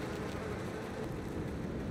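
A steady swarm of buzzing insects hums in the Little Nightmares 2 game world, a thick continuous drone heard on its own with no voices.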